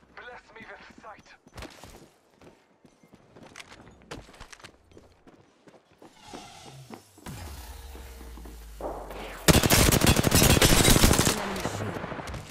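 Machine-gun fire in an Apex Legends match. Scattered shots come first, then a dense, loud sustained burst toward the end, with game voice lines heard in between.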